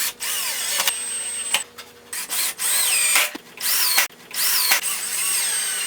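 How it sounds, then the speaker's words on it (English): A power drill drives pocket screws into wood while lower rails are fixed to the base of a miter saw station. Loud, whining bursts repeat several times with brief gaps as each screw is set. "I placed the lower rails on the bottom, clamped them in position, and attached with pocket screws."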